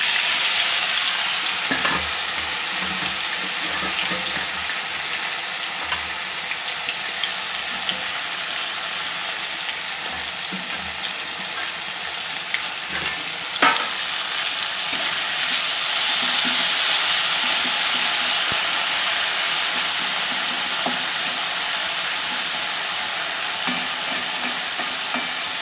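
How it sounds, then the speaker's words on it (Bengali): Cut potatoes fry in hot oil in a home kitchen, a steady dense sizzle running throughout with occasional stirring scrapes and clinks. "আলুটা একটু ভাজা হোক"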